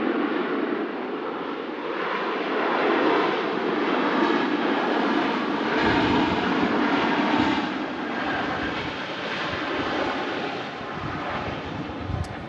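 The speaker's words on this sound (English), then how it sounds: "Ryanair 737 arriving in from Dublin" A Ryanair Boeing 737 arriving from Dublin at Manchester Airport, a steady loud jet roar that holds for the whole stretch, slightly swelling midway, with no voices.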